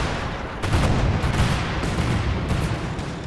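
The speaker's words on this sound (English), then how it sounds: "Got the cluster bombs coming down." Cluster bombs burst in Company of Heroes 2, a dense spray of overlapping explosions and crackling impacts rolling over a steady battlefield roar for a few seconds.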